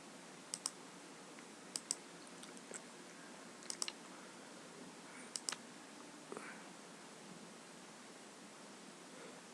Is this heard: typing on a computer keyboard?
yes